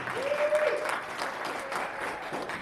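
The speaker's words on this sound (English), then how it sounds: "give her a round of applause" A convention panel audience applauds Gigi, a short burst of moderate clapping with a voice rising over it early, then settling into a lighter patter.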